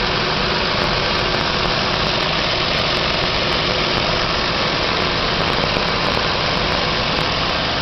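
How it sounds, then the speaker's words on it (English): A 2001 Pontiac Montana minivan engine idles steadily with the hood open, a smooth, even, constant hum with no voices. "I'm going to be quiet so that you can hear this engine and realize how beautifully it sounds."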